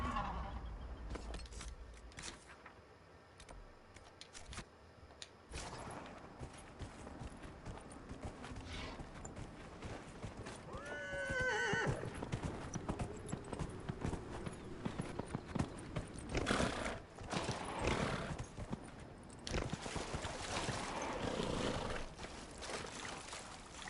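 Horse hooves clip-clop steadily through a Dragon Age: Inquisition game scene, joined by a neigh and a brief whinny, with soft voices talking and ambient game sounds layered underneath.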